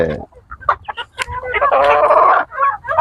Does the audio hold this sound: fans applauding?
no